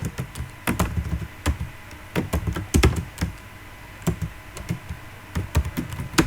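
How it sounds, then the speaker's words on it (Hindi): Keys clatter on a computer keyboard while entering data into an Excel spreadsheet, with close, fairly loud bursts of rapid keystrokes separated by short pauses. "यहाँ पे आपको टाइप करना है"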